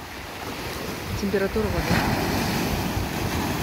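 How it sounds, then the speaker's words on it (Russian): Sea waves wash and break along a beach at Mahmutlar, Alanya, Turkey, in December, a steady loud surge of surf swelling midway and continuing under wind noise while someone talks over it. "Ох, какая волна."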